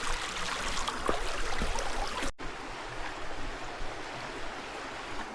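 Creek water rushes past in a desert canyon on a trail to waterfalls near Palm Springs, a loud, continuous broadband flow heard close by, broken by a sudden cut partway through before resuming steadily.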